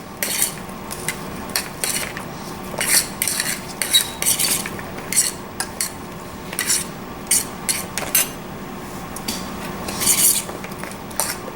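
Brussels sprouts tossed with oil in a bowl, clattering and scraping in quick bursts of stirring and rubbing, close and crisp, with brief pauses between strokes and no talking.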